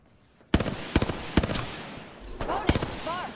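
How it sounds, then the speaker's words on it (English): Gunfire in the battle-royale shooter Apex Legends: several sharp, loud bursts of shots in quick succession, then a later cluster with chirpy game effects, over a low background rumble. "They're shooting at me."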